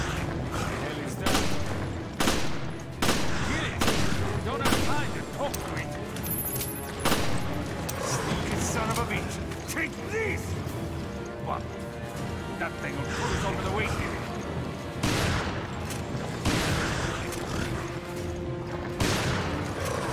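Shots ring out in Resident Evil Revelations as repeated sharp reports and clattering impacts spread across a busy game soundscape, with someone talking over the action throughout.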